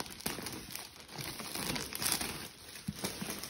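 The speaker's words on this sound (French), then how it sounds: "On va enlever le petit plastique." Someone tears the thin plastic wrapping off a SpongeBob SquarePants Battle for Bikini Bottom Rehydrated game box by hand, producing close, continuous crinkling and ripping with a few sharper snaps.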